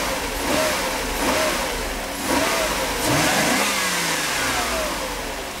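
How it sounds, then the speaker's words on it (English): A Mercedes 500SL engine, running out of tune, revs up in repeated swells from a steady idle, its pitch rising and falling in several throttle blips, close and loud. "my motor is not really tuned at the moment, so don't judge its performance, but well, I can gun it"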